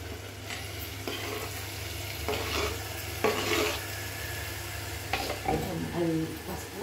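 Paneer pieces for a curry fry in a pan with a steady close sizzle, broken by repeated scraping and stirring strokes against the pan.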